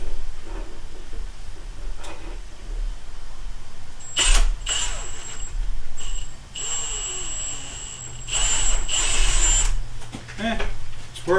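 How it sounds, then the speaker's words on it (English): An angle grinder whines against a locking extension spun in a vise, with intermittent high-pitched grinding bursts between quieter pauses, while a person talks nearby. "I can spin this thing while grinding it and hopefully slim it down"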